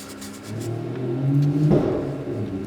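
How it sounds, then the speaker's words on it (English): A loud car revs outside on a city street, its engine tone climbing and swelling to a peak, then easing off, heard at a moderate distance with no talk. "we have really, really loud cars where I live"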